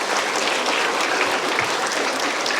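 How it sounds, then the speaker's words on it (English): A live audience applauds a pair of event hosts at a tribute gathering, with steady, dense clapping that fills the room and stays loud and even throughout, with no voices standing out. "give them a round of applause"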